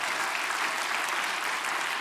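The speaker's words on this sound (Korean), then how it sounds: "박수 한번 드려도 될까요?" A church congregation applauding together, a steady dense wash of clapping held evenly for the whole stretch, with no voices over it.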